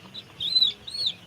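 Broiler chickens on a poultry farm give faint, high chirping calls in two short bursts over a low background murmur.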